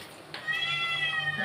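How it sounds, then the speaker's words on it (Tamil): A cat meows inside a home kitchen while lunch is cooked, one drawn-out, fairly clear cry that rises after a short rustle and holds close to the microphone. "பூனை வெளியில் போ."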